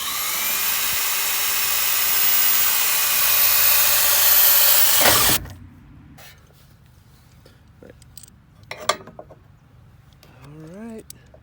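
A power drill drives a bracket into a Tracker Topper jon boat, whining steadily and loudly for about five seconds before cutting off, followed by quieter clicks and handling sounds.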